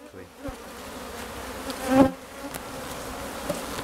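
Honey bees buzzing around an open top bar hive, a dense continuous drone close by that swells briefly midway, with no one speaking.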